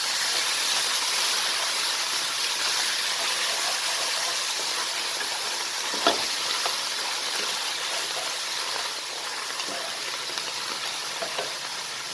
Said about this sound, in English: So I'm going to let this fry about a minute, and I'm going to continue stirring so that we don't burn the garlic or the coriander.